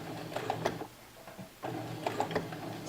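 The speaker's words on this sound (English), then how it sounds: "So I'm going to really slowly go ahead and start stitching." Home sewing machine with a stitch-in-the-ditch presser foot stitching slowly, a close mechanical whir in two short bursts separated by a brief pause, no talking.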